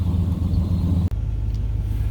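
An old dually pickup truck engine idles steadily during an icy South Carolina winter storm, a loud, deep continuous rumble with a brief momentary dip partway through, heard up close with no talking.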